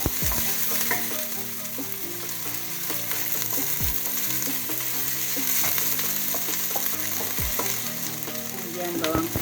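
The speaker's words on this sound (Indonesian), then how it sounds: "margarin kita lelehkan untuk menumis bawang bombaynya" Onions sautéing in melted margarine, a loud continuous sizzle with repeated scraping and stirring knocks of a utensil in the pan, close and steady throughout.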